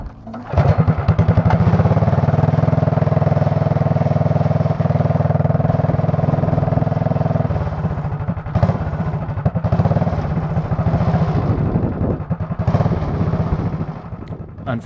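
A Black Widow go-kart engine running loud and steady close by as it rides around a rural property, with a droning mid-pitched tone that shifts and wavers as the throttle changes.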